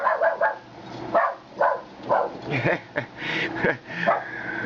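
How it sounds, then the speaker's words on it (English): Several dogs bark in short bursts, about eight separate barks over a few seconds, fairly close and loud, with a spoken voice mixed in among them. "we cannot film without having the dogs chime in"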